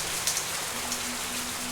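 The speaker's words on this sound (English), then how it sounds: "it just started raining" Rain just beginning to fall outdoors, a fine steady patter of drops on surfaces with a few slightly louder individual drops standing out, and no voices.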